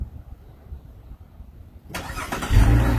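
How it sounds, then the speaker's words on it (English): A car engine is started by remote start: after a quiet stretch the engine cranks and catches abruptly, then settles into a steady, close idle. "Car starts right up."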